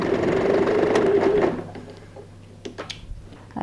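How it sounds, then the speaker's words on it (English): A sewing machine stitches along the edge of a bag's bias binding. A steady, fairly loud motor whir runs for about a second and a half, then stops, followed by a few small handling clicks and knocks. "Now I'm sewing on the other edge."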